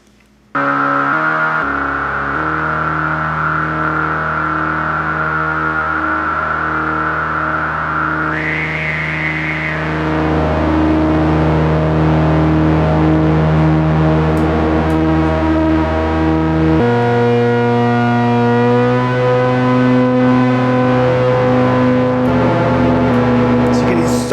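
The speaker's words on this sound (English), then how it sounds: "I'm going to press mono here, and we're going to turn voice mode depth up. That's going to bring in a sub oscillator." A Korg Minilogue synth in mono mode with the sub oscillator brought in plays sustained buzzy tones, loud and alone, shifting pitch and thickening partway through as low sub notes fill out the sound.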